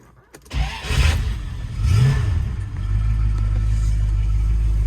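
A 1974 Jensen Interceptor Mk 3 with an Edelbrock carburettor cranks briefly, catches straight away with a rising roar, then settles into a loud, steady idle close by.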